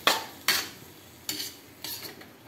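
A utensil stirs shrimp with tomato in a pan for a sautéed bitter melon and egg dish, giving four separate scraping strokes spaced out over a faint sizzle, close by, with no voices.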